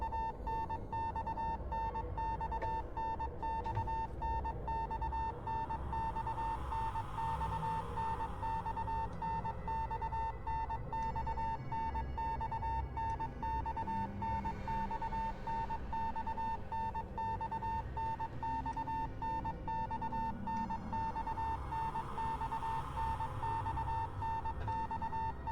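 Steady electronic beeping from the horror video game Spirit Hunter: Death Mark, a sustained pulsing tone held over a dense, droning ambient background for the whole stretch, with no talking.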